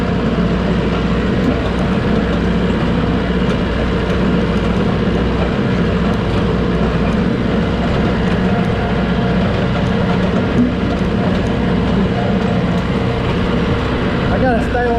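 A Landtrac 450 tractor pulling a borrowed sprayer drives between rows of corn, its engine giving a loud, steady drone with rattling that runs unbroken from start to finish.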